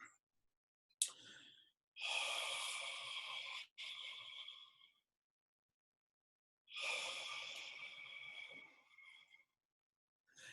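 Two long, breathy exhalations with a faint wavering quality come as the jaw is shaken loosely, separated by silence, with a short sharp intake or click before the first.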